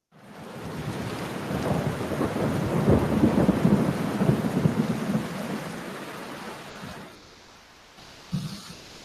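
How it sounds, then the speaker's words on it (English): Thunder rolls long and loud over steady rain, building to a broad rumble that fades out, followed by a brief faint knock near the end. "Do you hear the thunder?"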